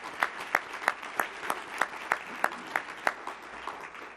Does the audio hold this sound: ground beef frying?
no